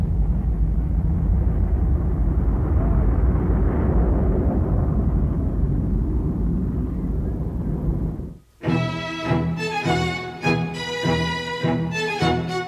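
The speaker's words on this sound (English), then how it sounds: "As the Dash 80 takes off for its first flight, the hopes of Boeing go with it." A Boeing Dash 80 jet airliner prototype takes off on its first flight with a loud, steady broadband jet roar for about eight seconds. The roar then cuts abruptly to music.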